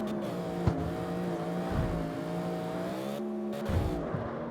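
An LS-swapped Sunny K truck engine in CarX Street holds steady on the rev limiter, a loud continuous buzzing drone with rising and falling harmonics. Brief dips and tire squeal break in near the middle and end.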